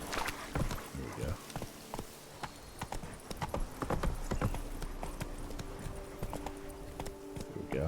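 Roach the horse from The Witcher 3 galloping, steady clip-clop hoofbeats running through the clip alongside game ambience and brief voices.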